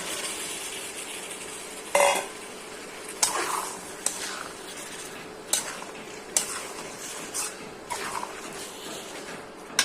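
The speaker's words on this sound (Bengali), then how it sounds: "দিয়ে দিচ্ছি ছোলা বুটগুলো আগে থেকে সিদ্ধ করে রাখা" Boiled chickpeas are added to a pan of cooked-down spiced mixture and stirred, with a spoon scraping and clinking against the pan at irregular intervals over a low sizzle.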